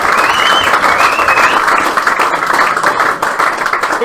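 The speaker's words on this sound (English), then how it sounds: "I was waiting for the crowd to go up to confirm" A crowd at a Waikato premiership club rugby match between Hautapu and Fraser Tech applauds and cheers loudly as a try is awarded, dense clapping sustained throughout with a few whistles rising above it.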